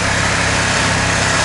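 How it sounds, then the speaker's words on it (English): A Ducati XDiavel S motorcycle engine holds a loud, steady, buzzing roar up close, with a continuous high engine drone and no talking. "I get bored, I just have to rev it."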